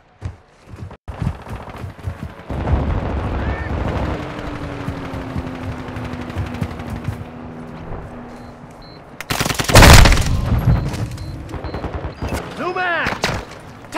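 Automatic gunfire in Call of Duty: Modern Warfare, with sustained rapid bursts across the clip and a loud, dense volley near the middle, mixed with game effects and voices.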